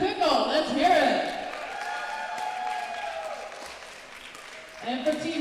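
A crowd at a pickleball venue night cheers and claps for Team Chicken and Pickle, a loud burst of applause and shouting at the start that fades into a lingering murmur, with an announcer's voice over it.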